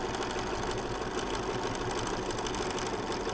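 A sewing machine runs steadily and up close, stitching a shirt yoke seam with a quarter-inch quilter's foot in a continuous mechanical whir with no pauses.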